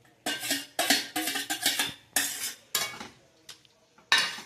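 Paneer cubes with fried onion and capsicum being stirred in a pan in a home kitchen, a run of sharp utensil scrapes and clinks against the metal in quick irregular bursts, separated by brief quiet gaps.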